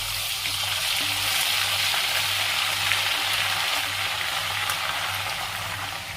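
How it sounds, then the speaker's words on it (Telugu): Ginger garlic paste, two spoonfuls, fries in a pan while being browned for a prawn pickle, giving a steady, dense hiss and crackle that runs evenly throughout, with a faint low hum beneath and no voices. "ఇందులోకి ఒక 2 స్పూన్స్ అల్లం వెల్లుల్లి పేస్ట్ వేసుకున్నాం. వేసుకొని దోరగా వేయించుకున్నాం."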